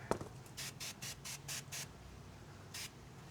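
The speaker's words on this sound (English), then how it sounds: "Hit it with some glass cleaner." Glass cleaner sprayed from a trigger bottle onto a Yamaha outboard's lower unit during a service: six quick even spritzes in a row, a brief pause, then one more, close and crisp over faint background hiss.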